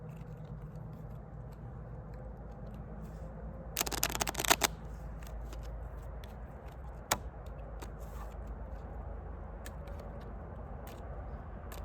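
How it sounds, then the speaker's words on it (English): Playing cards chop-shuffled by hand, a short burst of rapid papery flicks and taps, close and moderately loud over a low background hum, followed by a single sharp snap, with no talking. "Little chop shuffle action."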